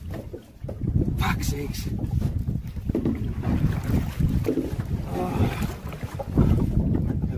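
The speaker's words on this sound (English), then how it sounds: "The frickin' motor's crapping out on me, and the wind's taking me." A small boat's faltering motor and strong wind on open water make a loud, steady rushing rumble with irregular surges, while a man briefly curses.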